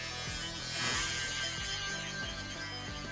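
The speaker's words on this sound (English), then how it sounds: "shaver," An electric shaver buzzes steadily while cutting hair during a taper on long curly hair, a close, continuous hum with faint rhythmic dips as it passes over the head.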